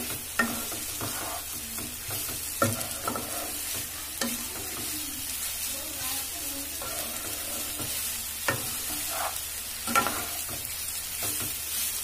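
Soya mince sizzling and frying in a pan while being stirred for cheesy soya egg rolls: a steady hiss of hot oil broken by sharp scraping clicks of the spoon against the pan, close and alone.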